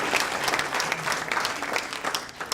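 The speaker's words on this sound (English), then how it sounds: "how about a big round of applause, please, for our lead gift?" An audience at a charity auction dinner applauds a lead gift, dense steady clapping from many hands filling the room for a few seconds, fairly close and even in level.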